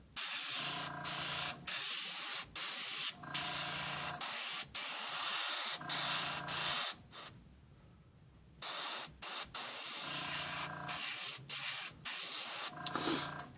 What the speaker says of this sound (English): I'll go ahead and spray this